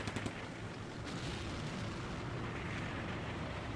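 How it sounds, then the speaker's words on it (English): Autocannon fire in the WWII wargame Combat Mission Beyond Overlord, a rumbling barrage of distant booming shots and explosions, fairly faint and continuous with a few sharper reports. "here comes the autocannon fun"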